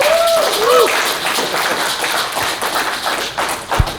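Audience applause at a Sonic ROM-hacking fan group reunion panel at a retro gaming expo, a fairly loud, dense burst of clapping that fades slightly. A few whoops or whistles come early, and one sharp thump lands near the end.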